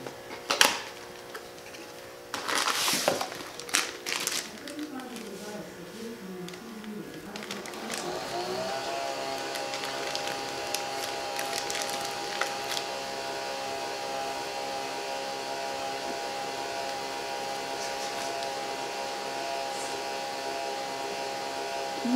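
A drip coffee maker brews a pot of coffee in a home kitchen late at night, giving a steady, continuous mechanical hum and gurgle that runs on without a break after some short clatter and handling noises at the start.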